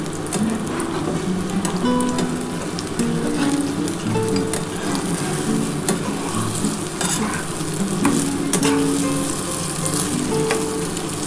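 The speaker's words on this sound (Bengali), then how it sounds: "বন্ধুরা দেখো, আমি এবার ডিমটা ভেজে নিচ্ছি।" Three beaten eggs fry loudly in hot oil in a pan, a dense continuous sizzle with scraping strokes of a spatula moving through them.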